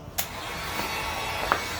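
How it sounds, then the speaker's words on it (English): A heat gun blows steadily to flatten foam pieces for a homemade White Ranger shield prop, a continuous close airy roar with a couple of faint clicks and bumps. "use your heat gun to flatten out your pieces a little bit"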